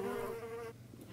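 A short, faint insect-like buzzing drone of bees in the Roblox game Miraculous RP, steady for a moment and then fading.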